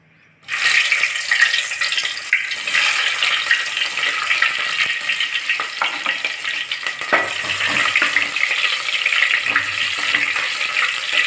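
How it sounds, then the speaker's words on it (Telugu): Chopped onions, dried red chillies and curry leaves fry in hot oil in a pan for upma, a loud, steady close sizzle that starts suddenly and runs continuously with occasional stirring scrapes. "కొంచెం కలర్ బ్రౌన్ కలర్ వచ్చేటట్టు, గోల్డెన్ కలర్ వచ్చేటట్టు వేయించుకోవాలి ఉల్లిపాయలను"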